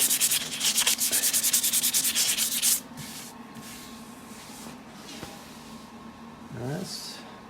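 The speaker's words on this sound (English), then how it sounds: "you're sanding against the grain" Wood being sanded by hand while shaping a P-Bass body, a fast, loud back-and-forth rasping for a few seconds, then it stops and leaves quieter room noise with a faint voice near the end.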